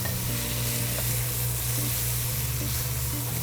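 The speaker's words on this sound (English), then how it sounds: "I got some nice white sweet onions that have been julienne. Gonna add them into the pan." Julienned white sweet onions sizzle loudly and steadily in an oiled pan, a dense continuous frying hiss heard close up with no voices.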